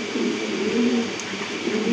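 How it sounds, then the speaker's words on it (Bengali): Pigeons at a pigeon seller's, where a male Tiger Shoking pigeon is being brought out, give low, steady cooing that stays near and fairly loud across the whole moment, with no talk over it. "আরেকটা কবুতর চলে আসছে"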